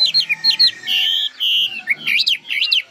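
A caged songbird raised from a chick sings a lively run of bright chirps, trills and sustained whistles, close and loud, alone with no talking.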